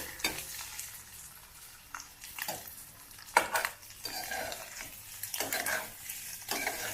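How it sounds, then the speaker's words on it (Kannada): Egg pepper fry being stirred in a pan, repeated scraping strokes of a spatula over a low, soft frying sizzle, close and fairly quiet. "ಎರಡು ಮೂರು ನಿಮಿಷ ಈ ಥರ ಬೇಯಿಸ್ಕೊಂಡ್ಬಿಟ್ರೆ ಸಾಕು ಫ್ರೈ ಮಾಡಿಕೊಂಡ್ರೆ ಇದು ರೆಡಿ ಆಗಿಬಿಡುತ್ತೆ"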